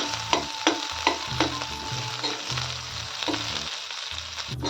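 Chopped onion frying in a pan for sushila, a Marathi breakfast dish: a close, continuous sizzle broken by regular scraping stir strokes, with no talking.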